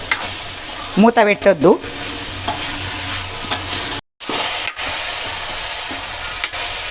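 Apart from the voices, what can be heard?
stirring okra in a frying pan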